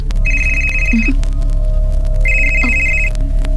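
A telephone rings in two separate bursts, about a second apart, each a bright trilling electronic tone over a steady low room hum. No one speaks.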